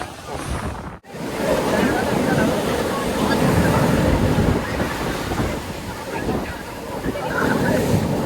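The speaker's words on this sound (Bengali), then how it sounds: "এখন কিন্তু জোয়ার চলছে সমুদ্রে, ঢেউটা জাস্ট খেয়াল করো" Sea waves at high tide on Digha beach churn and surge in a continuous roar, with swells rising and falling over strong wind buffeting the microphone, close and loud.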